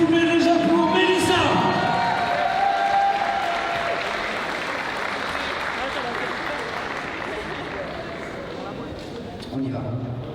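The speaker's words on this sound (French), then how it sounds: "Un maximum de bruit, s'il vous plaît, déjà pour Mélissa." A crowd applauds and cheers at a savate boxe française gala, loud and dense at first and then settling into sustained clapping, with an announcer speaking over it.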